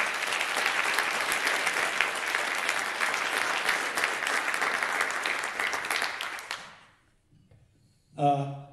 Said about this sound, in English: if you all could give him a big round of applause just so we could feel it